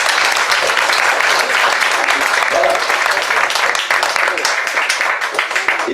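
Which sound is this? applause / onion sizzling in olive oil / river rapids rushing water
applause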